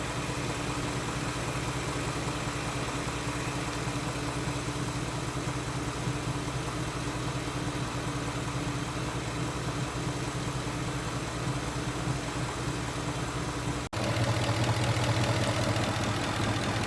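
A Ford F-150 pickup with a 5.0L Coyote V8 idles steadily, a constant even rumble with no revving, joined by a brief shift in tone near the end.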